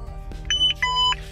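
Two short electronic beeps from a dog tracking collar in quick succession, the second a little longer, over a low hum of background noise.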